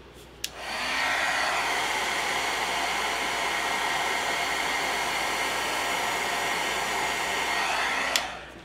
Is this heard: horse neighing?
no